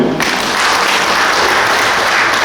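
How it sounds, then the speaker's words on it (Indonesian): A crowd of guests applauds at a wedding ceremony, the clapping starting abruptly and holding as a dense, steady, loud roar of many hands throughout. "Tepuk tangan Bapak Ibu."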